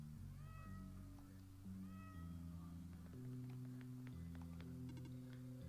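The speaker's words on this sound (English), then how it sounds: "Hey, cats!" Several cats meowing in the OneShot video game, short high mewing calls repeated over a steady synth music bed, with brighter chiming notes near the end.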